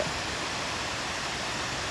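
A waterfall beside a house pours with a steady, unbroken rushing hiss, loud and close, holding the same dense wash of water noise for the whole stretch with no voices over it.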